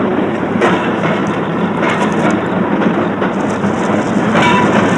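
A railroad wagon rolls along the rails with a loud, continuous rumble and rhythmic clickety-clack beats, heard up close with no voices.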